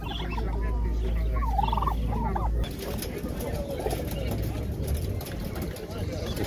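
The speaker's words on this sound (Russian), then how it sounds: "Индюки шоколадные" Chocolate turkeys at an outdoor winter fair market in Kropotkin give a few rough, warbling gobbles early on. The gobbles are moderately close, then give way to rustling crowd noise and people talking.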